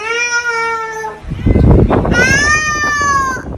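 A person imitates a cat with two drawn-out, nasal meows, one long call, a short pause filled with rustling movement, then a second rising meow, loud and close.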